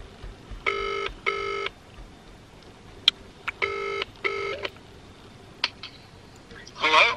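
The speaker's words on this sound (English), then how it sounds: "It's ringing, it's ringing." A phone call's ringing tone repeats twice in short double bursts, pauses, then rings twice more, clear and close, with a few small clicks and a brief rustle between rings; no one talks over it.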